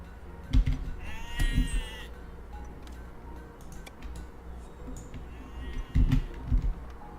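Sheep bleat in the farming game Stonehearth, three loud calls spread out over the stretch, with soft clicking game sounds between them and no talk.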